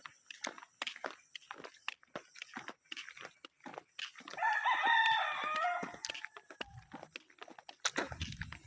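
A rooster crows once in the middle, loud and drawn out, amid scattered clucking and rustling from nearby chickens.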